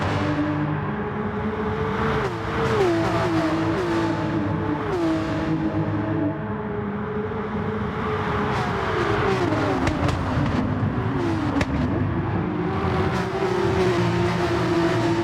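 Porsche SuperCup race cars in a sim racing game at Circuit de Sainte-Croix howl continuously in tight racing, with engine notes rising and dropping through gear changes.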